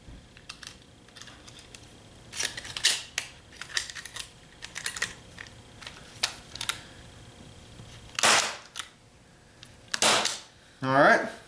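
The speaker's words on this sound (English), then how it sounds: "I like to put one staple in each just to keep it from separating." Staple gun fastening a beaver pelt onto a wooden drying board, a series of sharp, close snapping clacks at irregular intervals, with a few louder bursts near the end.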